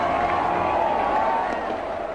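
A dense crowd at the Black Nazarene religious procession in Manila, Philippines, a steady loud wash of many voices and commotion with no breaks, close and enveloping.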